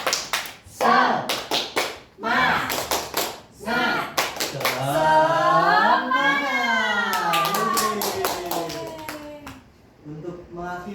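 A classroom of students doing a rhythmic clap chant in Indonesian, bursts of hand claps alternating with sung and shouted group chanting, close and lively.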